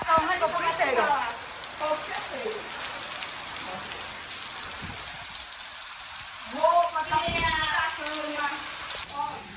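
Heavy rain pours steadily onto a house during strong wind, making a constant close hiss, while voices talk over it at the start and again near the end.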